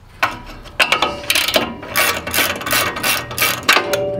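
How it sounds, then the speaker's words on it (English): A ratchet wrench turns a nut on the suspension of a Ford F150 during a leveling kit install, giving close, loud clicking pawl bursts in quick repeated strokes. "And then we'll just grab our ratchet."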